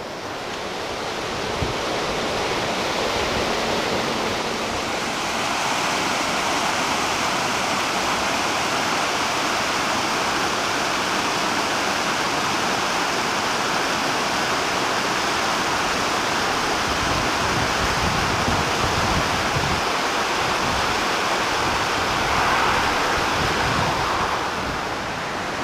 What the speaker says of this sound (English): The sound of the rushing water and the glorious sunshine up here on the way to Rest and Be Thankful